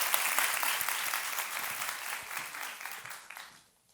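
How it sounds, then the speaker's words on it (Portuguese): Audience applause welcomes Adriana Barbosa to the stage at a women entrepreneurs' talk at Itaú Cultural, a steady wash of many hands clapping that thins and fades out over the last half second. "palmas para a Adriana"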